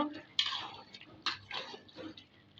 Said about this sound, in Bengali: পানিটা শুকিয়ে গেছে, এই পর্যায়ে নাড়া দিব।